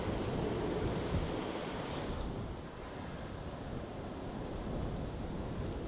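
Ocean waves wash against the shore near a lighthouse at night, a continuous broad rushing surge mixed with wind buffeting the microphone, fairly close and steady.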